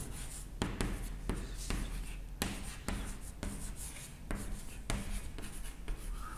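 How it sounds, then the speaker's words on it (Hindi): Someone writes a name by hand, the pen or chalk moving in steady continuous scratching strokes with short sharp taps and pauses between words, close and fairly loud with no talking. "तो यहां पर मैं नाम लिख दे रहा हूं"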